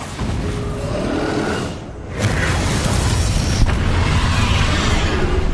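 A Bombarda blasting spell in the Hogwarts Legacy video game goes off as a loud, roaring booming burst that dips briefly and then surges into a sustained rumbling blast.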